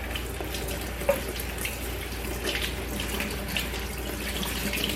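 A kitchen island sink tap runs steadily while kale is rinsed under it, a constant close hiss of flowing water with a few faint splashes and no talking.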